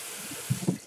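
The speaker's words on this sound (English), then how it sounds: "All right, wash my hands again." Tap water runs into a kitchen sink while hands are washed, a soft steady splashing with a few brief louder sloshes, close by and without talk.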